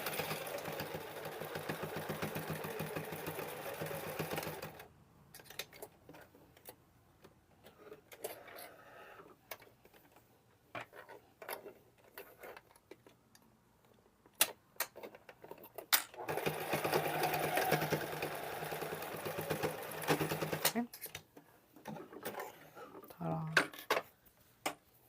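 Domestic sewing machine running a straight stitch along the top of a handmade cotton oven dress towel, in loud steady whirring bursts of several seconds separated by quieter pauses with faint handling clicks and a voice talking.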